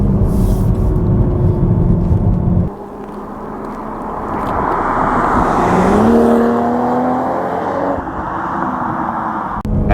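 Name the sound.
Toyota Supra 3.0 driving on twisty roads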